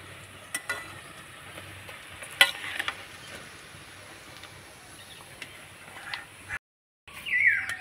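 Jackfruit pakoras are lifted out of hot frying oil: a soft, steady sizzle runs throughout, broken by a few scattered clinks and scrapes of a utensil.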